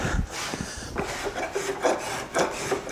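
A wooden spoon is smoothed by hand to remove bandsaw marks, with repeated rasping strokes in an uneven rhythm, close and fairly loud, alone.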